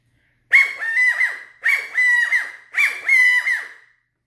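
A valley or Gambel's quail stick call is blown three times in a row, each a loud, close three-note squawking phrase with brief pauses between, alone without talk.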